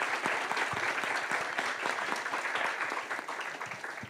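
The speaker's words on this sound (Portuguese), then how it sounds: "uma salva de palmas para todos" An audience claps steadily throughout at a closing thank-you moment of a talk on coaching, counseling, mentoring and tutoring, dense, sustained applause with no voices over it.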